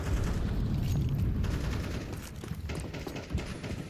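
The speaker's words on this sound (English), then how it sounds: "G2 hears 4 nades explode over at elbow" Several grenades exploding in a Counter-Strike match, a dense rumble of blasts that starts loud and fades over a few seconds, with no voice over it.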